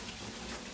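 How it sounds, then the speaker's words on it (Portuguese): Hot water pours steadily over chopped, washed bananas, a continuous close splashing gush with no break. "e agora vou colocar uma água quente"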